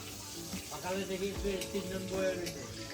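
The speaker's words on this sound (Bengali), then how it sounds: "পেঁয়াজ বসিয়ে দিলাম, পেঁয়াজ ভাজতে" Onions frying in a pan over a clay stove give a steady, soft sizzle, with a voice talking over it throughout.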